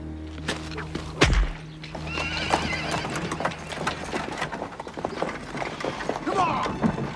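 Horse hooves clop on hard ground with a loud thud early, followed by neighing and whinnying, with faint voices in the background.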